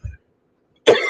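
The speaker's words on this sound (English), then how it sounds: "I've got a coughing fit like I have." One short low cough, then after a pause a louder burst of harsh, broadband coughing or throat clearing at close range, part of an allergy-related coughing fit during a live stream.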